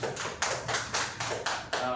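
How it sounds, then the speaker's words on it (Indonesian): Students in a classroom clap together for a classmate, a steady rhythm of about eight sharp, loud claps evenly spaced, with no talking over them. "tepuk tangan dulu untuk Afila"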